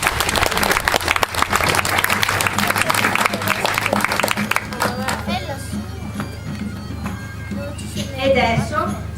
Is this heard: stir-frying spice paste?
no